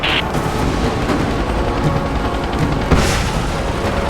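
Heavy gunfire and booming blasts from Rise of the Tomb Raider roll on continuously, dense and loud, with one sharper burst near the end and no speech.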